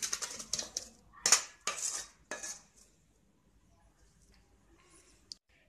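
Moringa leaves dropped into a cooking pan, giving a cluster of close metallic clatters and scrapes from the pan and utensil over the first few seconds, then near silence with one faint click.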